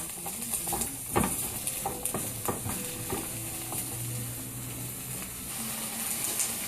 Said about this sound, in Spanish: Cuando la cebolla va tomando color